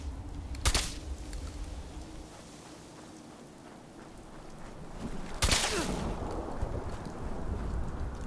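Two sharp gunshots in Fallout 4 ring out several seconds apart, each a loud broadband crack, over a steady low rumble of ambient wind and background game noise.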